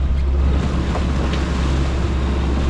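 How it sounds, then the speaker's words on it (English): Ocean swell and wind of about 10 knots heard aboard a sailboat at sea, a loud continuous rush with deep low rumble and steady wind noise over the microphone. "It's some old ocean coming rolling in, and the wind is about 10 knots from here."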